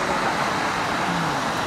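Steady road traffic rolls past near the Kami-Horai Bridge in Fukushima on a Saturday, a continuous broadband rush of passing cars with no break and no voices.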